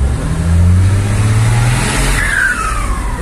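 Ford F-250 truck with a modified turbo revving hard, a loud close engine roar climbing in pitch with a rising turbo whistle near the end, no talking.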